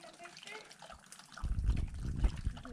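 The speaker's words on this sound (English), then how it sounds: "Cashy needed a drink, and he's gonna drain that little pond there" A dog laps water from a small pond on a canyon hike, the wet splashing and lapping turning loud and close after a quiet start, with low rumbling handling noise around it.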